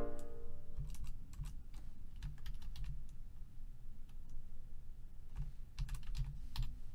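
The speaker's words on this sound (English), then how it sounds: "I'm just pressing spacebar between these chords to move to the next note." Computer keyboard presses, including the spacebar, tapped between note entries in MuseScore music notation software, heard as scattered single clicks over a low background hum with no talk.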